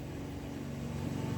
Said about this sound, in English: Everybody wants to mow all of a sudden, even though the grass is all wet.